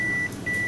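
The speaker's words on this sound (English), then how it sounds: "Oh, this would drive everyone nuts, the beeping noises." Konica Minolta bizhub C280 copier beeping: two steady electronic tones, the first long and the second starting after a short gap, close and clear with no talk.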